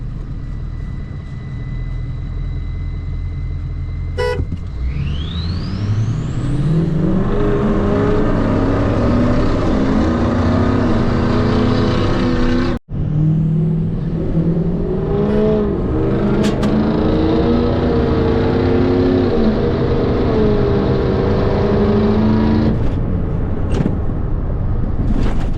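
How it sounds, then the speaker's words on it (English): Diesel trucks fitted with new 175/30 injectors race each other, giving a loud, sustained engine roar that climbs in pitch, breaks off sharply midway, then surges again at full throttle, with no voices. "now we're gonna go ahead and test it out and see how Barry does against Perez's truck"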